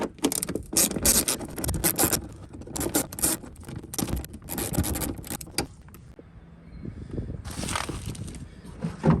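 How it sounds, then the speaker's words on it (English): Work at the front wheel well of a 2020 Ford F-350 on the driver's side, where two screws are taken out: close, irregular scraping, clicking and metallic rattles in bursts, broken by short quieter pauses. "the first thing we're going to start off with is removing these two screws right here"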